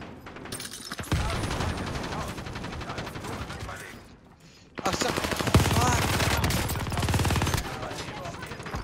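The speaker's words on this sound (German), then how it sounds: "Ich bin hier unter Beschuss!" Two sustained stretches of dense automatic gunfire in Call of Duty Warzone, loud and close, separated by a brief lull, with mechanical rattling mixed in and some voices faintly underneath.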